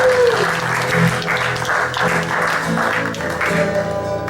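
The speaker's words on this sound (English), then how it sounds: "I have to have a round of applause for my partner" Loud, sustained applause from a pre-show crowd for a musician, dense clapping with a few voices and tonal sounds threaded through it.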